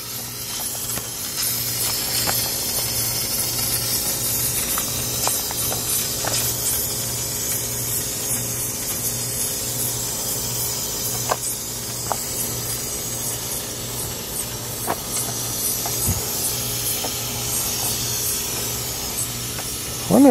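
A steady, close hiss like air escaping a leaking hose comes from a Saturn SW2 car, continuous and fairly loud over a low mechanical hum, with occasional faint clicks.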